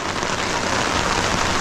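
Steady rain pours at an outdoor work site where concrete is being poured, a dense continuous hiss of drops hitting surfaces, close and even throughout with no voices.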